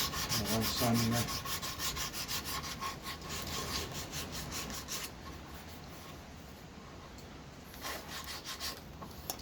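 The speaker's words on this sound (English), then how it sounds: "I think I'll go around sanding now." Wood being sanded by hand after rough filing, a steady, close scratchy rubbing with quick repeated back-and-forth strokes early on, then a smoother continuous scrape, with no talking.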